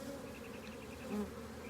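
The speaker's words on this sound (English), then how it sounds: "these are full-blown Africanized bees" Young Africanized honeybees buzz in a low, steady, continuous drone, faint and close, with no other sounds.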